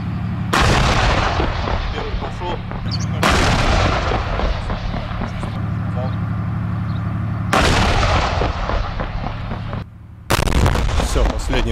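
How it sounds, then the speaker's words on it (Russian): An artillery battery fires salvos toward a target during shelling of Artemovsk (Bakhmut). Four heavy, booming launches come at intervals, each a sharp blast that rolls into a long rumbling roar, with a constant low engine drone between them. "Сейчас очередной будет залп. Очередной залп."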